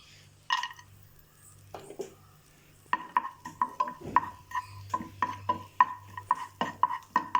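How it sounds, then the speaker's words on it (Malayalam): Cashews fry in ghee in a small pan, with a spoon tapping and scraping against the metal in a quick regular rhythm of clicks over a low background hum. "ഇനി ഞാൻ നെയ്യിൽ കുറച്ച് കാഷ്യൂസും കൂടെ ഒന്ന് ഫ്രൈ ചെയ്തെടുക്കുകയാണ്."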